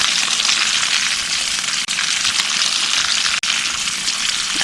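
Button mushrooms sizzle in hot oil in a pan with a dense, steady, loud frying hiss that holds throughout, broken only by two brief gaps.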